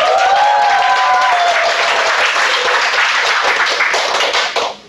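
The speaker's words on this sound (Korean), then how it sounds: "박수로 청해 듣겠습니다." A crowd at a Korean political talk event applauds in a dense, continuous burst, with a few brief tonal sounds early on, fading out at the very end.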